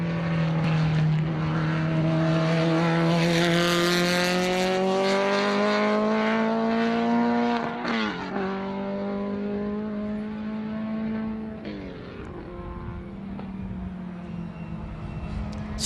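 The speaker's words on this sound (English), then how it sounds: "So as the cars head back to Parc Fermé" Vintage race cars at Sebring head back to parc fermé after the race, with engines droning steadily under shifting gears and a brief dip and change in pitch partway through.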